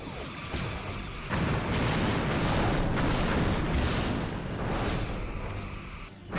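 Photon torpedo explosions rumble through a Star Trek starship battle game, a dense sustained roar of booms and crashes with a few sharper bursts, loud and continuous without voices.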